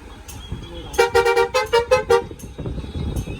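A vehicle horn honks in a rapid run of short, loud blasts, then stops, leaving traffic rumble behind.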